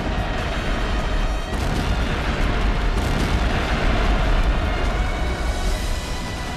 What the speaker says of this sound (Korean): 경애하는 김정은 동지께서 직접 발파 단추를 누르시자 역사적인 지방공업혁명의 계시를 알리는 장쾌한 포금이 울려 퍼졌습니다